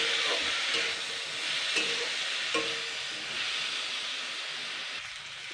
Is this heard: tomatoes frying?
yes